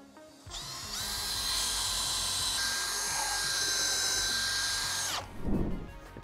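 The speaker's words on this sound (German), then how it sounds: "Jetzt wird der Sparren vorgebohrt, je nach Stockschraubendurchmesser." An electric drill pre-drills a wooden roof rafter for a stud screw during a solar panel install, a steady high whine held for about four seconds before it stops, with a clunk after.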